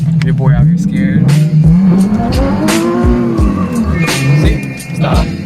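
A Nissan 370Z drifting in donuts, its engine revving loud and wavering with sustained tire squeal and skidding close by, while people talk over it.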